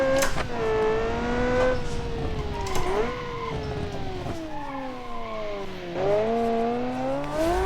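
Car engine in the BeamNG driving game with tires locking up and squealing, heard as tonal whines that rise and fall while the engine revs and brakes hard, repeating several times.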